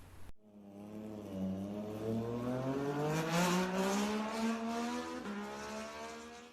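Moto2 racing motorcycles roar away at a race start at Spielberg, a loud, sustained engine howl with rising pitch sweeps as the bikes accelerate through the gears, continuous and close for several seconds.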